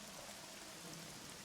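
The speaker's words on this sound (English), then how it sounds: "The rain at night is cold." Steady rain falls on a cold night, close to freezing, in a mountain setting, as a continuous soft hiss of drops on surfaces with no voices.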